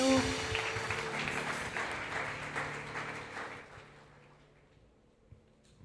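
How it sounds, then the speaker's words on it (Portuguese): A church congregation claps and applauds during a Portuguese-language worship service, a dense sustained wave of hands that gradually thins and fades toward the end. "Aplauda o nome do Senhor."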